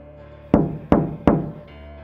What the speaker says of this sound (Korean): 창문을 두드리는 것이었습니다.